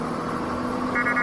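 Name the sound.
beeping noise in Euro Truck Simulator 2 video game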